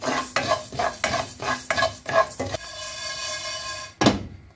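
Rice is dry-roasted in a pan for homemade sambar powder, with a spoon scraping and stirring in steady strokes, grains rustling and crackling faintly, and a single louder clatter near the end.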